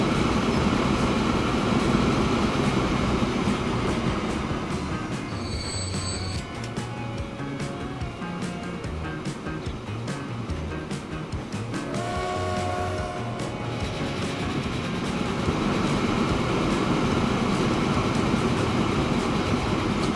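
Freight train rolling along in the Transport Fever game, a continuous rumbling clatter of wagons with a couple of brief high metallic squeals, steady and fairly loud throughout.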